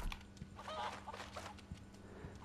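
In Resident Evil 4 Remake, a chicken gives a few short clucking calls over a faint, steady low hum of game ambience, quiet and sparse.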